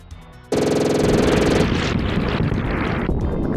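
Contra III: The Alien Wars gunfire and explosions, a sudden burst of rapid machine-gun fire that gives way to roaring, crackling blasts, loud and continuous throughout.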